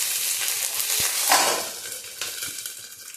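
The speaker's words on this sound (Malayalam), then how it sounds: "ഇനി ഇതിലേക്ക് നമുക്ക് 2 വറ്റൽമുളക് ഇട്ട് കൊടുക്കുകയാണ്." Dried red chillies fry with popped mustard seeds in hot coconut oil, a continuous crackling sizzle with a few light clicks of stirring against the pan, fairly close and with no talk.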